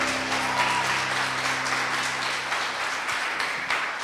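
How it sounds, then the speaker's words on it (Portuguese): A church congregation at a sermon applauds, producing a full, sustained roar of many hands clapping that stays loud and even throughout, with a low hum running underneath. "dá uma salva de palmas a Ele."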